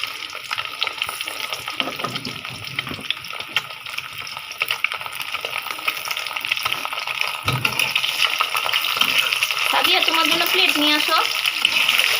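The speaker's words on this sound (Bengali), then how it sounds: "ওই ডিম ভাজা তেল দিয়ে ডিম ভাজতেছি" Eggs fry in hot oil in a pan with a continuous, close sizzle that grows louder toward the end; a faint voice may briefly sound in the background.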